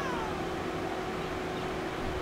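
A cat in the Naruto to Boruto: Shinobi Striker video game lets out a drawn-out, sliding meow, moderately loud over a steady background hum.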